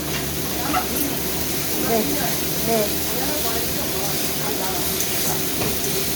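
Red chili and ginger frying in a pan for a jackfruit curry, a steady close sizzle and hiss that holds evenly throughout with faint stirring scrapes.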